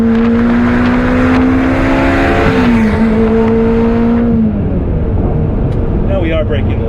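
A Ferrari F355 Berlinetta engine revving hard in fourth gear at speed, loud sustained tone climbing then shifting down, with road and wind roar underneath and a voice talking over it.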